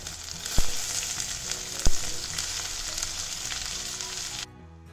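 Ginger, chilies and onions sizzle and fry steadily in a pan, a dense continuous hiss with two sharp clatters of a utensil against the pan, ending abruptly.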